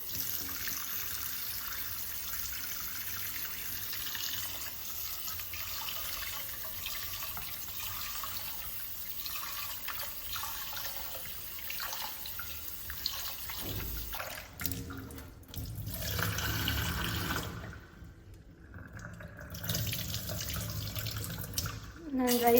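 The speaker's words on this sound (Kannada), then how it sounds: "ರೈಸ್ ತೊಗೊಂಡಿದ್ದೇನೆ, ಇದನ್ನು ವಾಶ್ ಮಾಡ್ಕೊಳ್ತೇನೆ." Rice being washed in a sink under a running tap, a steady close water stream with splashing and trickling that shifts in the later seconds as the grains are swirled.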